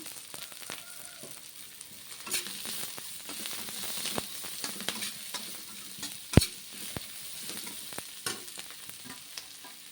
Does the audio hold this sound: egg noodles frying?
yes